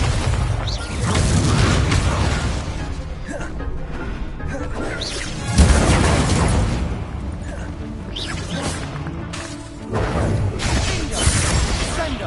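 Incendio fire spells cast during a Hogwarts Legacy fight, loud booming blasts, smashes and crackling bursts in a busy combat mix, with voices shouting over the action.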